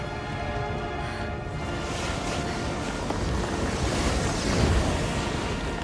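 Wind in an Avatar The Last Airbender episode, a loud, continuous rushing roar that swells slightly toward the end, with no talk over it.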